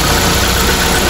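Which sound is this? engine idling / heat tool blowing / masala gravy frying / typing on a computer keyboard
engine idling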